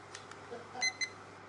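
A kitchen timer in a home kitchen gives two quick, faint electronic beeps close together over a quiet background.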